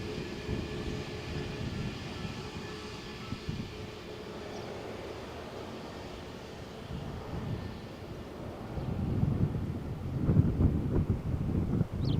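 Gusty wind buffeting the microphone at Malaga Airport on a stormy morning, a low rumbling roar that swells louder toward the end, with faint aircraft engine drone underneath.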